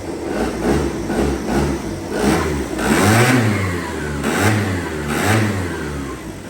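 A 2002 Aprilia SR50 Di-Tech fuel-injected scooter engine revs hard through several throttle blips, its buzzy two-stroke note rising and falling up close with loud, repeated surges and no talking.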